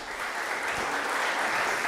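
An audience at a biotech skilling programme session applauds with dense, even clapping, held steady at a moderate level throughout.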